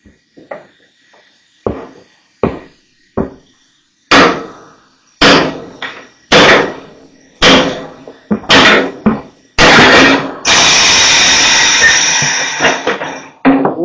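An old Coats tire changer machine works on a tire with a series of sharp, loud clanks and bangs at irregular intervals, ending in a longer grinding mechanical run, close up and without talk.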